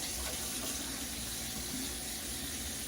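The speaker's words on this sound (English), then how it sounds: "Let me wash my hands again" A kitchen tap runs steadily into the sink while hands are washed during chicken stew preparation, an even, continuous gush of water close by with no talk.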